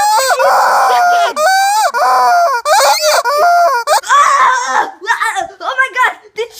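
A chicken squawks and screeches loudly and repeatedly, close up, in a frantic run of harsh cries mixed with excited shouting voices.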